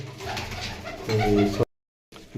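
Pigeons cooing at close range on a rooftop loft, a run of low rhythmic coos for about a second and a half, then a short silence before the sound returns.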